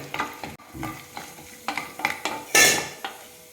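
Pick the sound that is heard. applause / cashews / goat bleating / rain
cashews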